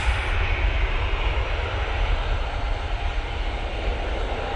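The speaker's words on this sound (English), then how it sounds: "KLM A321 Neo now blasting out to Amsterdam Schiphol." A KLM Airbus A321neo takes off from Manchester Airport bound for Amsterdam Schiphol, its engines roaring in a loud, broad, steady rumble.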